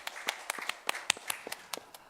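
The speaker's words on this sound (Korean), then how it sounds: "하나님께 영광의 박수를 드리겠습니다." A church congregation at a Korean Sunday service claps in praise, a scattering of sharp, fairly close hand claps in a loose, uneven rhythm with no voices.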